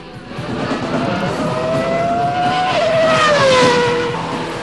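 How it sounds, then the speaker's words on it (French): A McLaren Formula 1 race car and a Peugeot race car accelerating on a track, a loud sustained engine whine climbing and sliding in pitch with a brief tire squeal, close up and continuous, with no talk over it. "La McLaren accélère jusqu'à 340 km/h tandis que la Porsche utilise toute la piste pour maintenir son avance."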